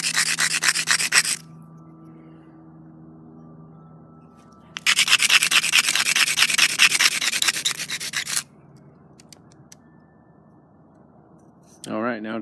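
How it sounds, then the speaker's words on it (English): Bone knife handle from a rib bone sanded by hand with an old broken hammerstone, giving two long bursts of steady gritty rubbing, close and loud, separated by quiet pauses. "I just sanded it down with this old broken hammerstone"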